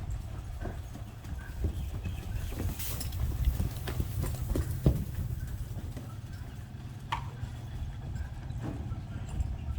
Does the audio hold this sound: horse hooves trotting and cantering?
yes